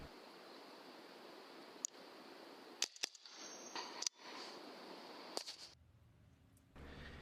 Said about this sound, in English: Here's that double tap on that rabbit. Man, the semi-auto Leshiy 2 is so much fun to shoot.